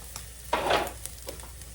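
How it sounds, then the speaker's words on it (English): Onions and jalapenos tumble into a hot pan with ground beef and hit it with a sudden loud sizzle that swells for a moment. A softer crackle of frying continues underneath with faint stirring clicks. "we're going to put these onions and jalapenos off in here, y'all"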